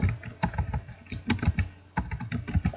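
Fingers type data into an OpenOffice spreadsheet on a computer keyboard, producing quick bursts of close, crisp key clicks separated by short pauses, with no talking.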